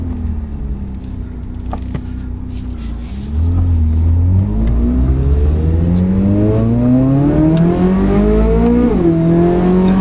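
A Chevrolet Corvette ZR1 engine idles, then revs up loudly and climbs steadily in pitch, dipping briefly before rising again, heard close and strong.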